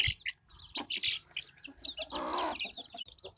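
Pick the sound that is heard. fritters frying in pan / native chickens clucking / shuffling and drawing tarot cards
native chickens clucking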